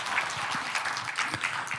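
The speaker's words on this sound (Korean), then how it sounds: "여러분 박수 한번 쳐주십시오." An audience at a Korean political campaign speech breaks into applause, a brief burst of moderately loud, slightly uneven clapping from a gathered crowd.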